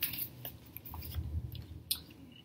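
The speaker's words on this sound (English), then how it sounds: "I'm just shuffling the deck right now." A deck of Cardfight Vanguard trading cards is shuffled by hand, giving quiet, soft riffling and scattered papery clicks over about two and a half seconds, with no voices.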